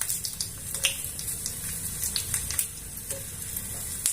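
Red chillies sizzle in hot desi ghee in a small tadka pan, a steady close crackle with faint spitting pops running throughout, no voices.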